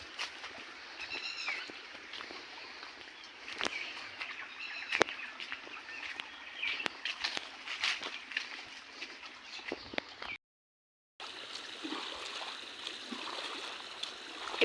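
Water trickles and streams steadily into a channel in a rice field, faint and continuous, with scattered bird calls and clicks above it and a brief cut to silence near the end.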